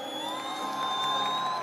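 A crowd cheers and whoops for Sidhu Moose Wala, a brief swell of distant shouting and applause over a lingering tonal hum.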